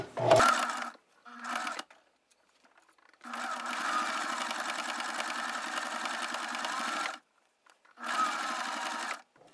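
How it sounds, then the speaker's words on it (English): A sewing machine top-stitches a selvage snap bag in three runs, a short burst, a long steady stretch and a final short burst, broken by pauses, with brief talk at the start. "I'm just going to top stitch this one."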